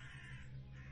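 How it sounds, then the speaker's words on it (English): Crows cawing in the game Sir, You Are Being Hunted, a brief burst of harsh calls over a steady low ambient hum. "Ooh, birds."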